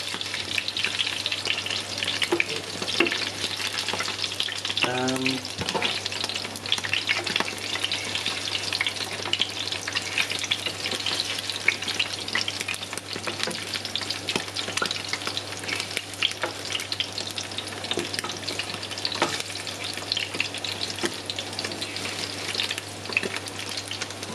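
Pieces of seitan fry in hot oil, a loud, dense, continuous sizzle with bubbling crackles and a brief stirring clatter, over a low steady hum.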